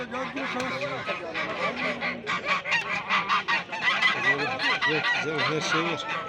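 A crowd of geese honking loudly and repeatedly at a poultry market in Sungurlu, Turkey, overlapping calls in a busy, noisy flock close at hand.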